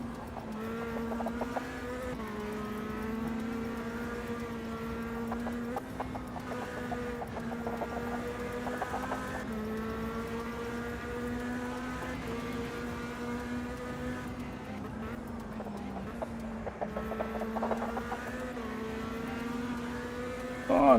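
A race car engine in Automobilista 2 holds high, steady revs near the limiter, its whining note dipping slightly with gear changes and rising again, sustained and close without a break.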